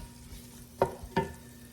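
Onions and peppers saute in a pan with a low, steady sizzle under two quick, close clacks of a utensil against the pan.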